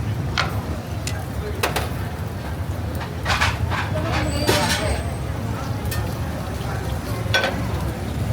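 Lechon kawali fries at a busy night street food stall in Cubao, Quezon City, a constant sizzle of hot oil under chatter and voices, with occasional sharp clinks and clatter.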